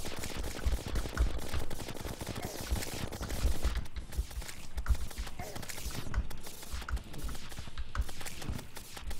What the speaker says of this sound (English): Rainbow gun is doing some work.